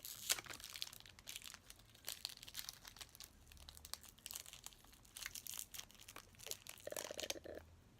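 Close crinkling and tearing of a small plastic packet as an LOL doll toy is unwrapped, in quiet, irregular rustles and crunches.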